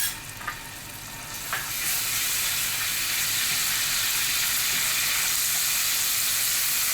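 Ginger chili paste frying in melted butter in a hot pan for a veg Mughlai paratha filling, a steady loud sizzle that swells after a couple of soft stirring clinks and holds without pause, with no talk.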